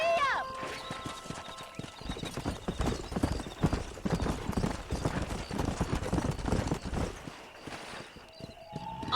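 Horse hooves in the video game Red Dead Redemption, a fast, busy run of clip-clopping hoofbeats with a neigh near the start, close and steady, with voices talking over it.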